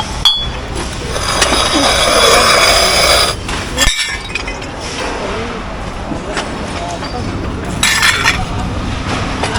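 Plates and a thermos being handled among discarded household items, with scattered clinks and glassy knocks over a continuous rustling background, close by, with people talking.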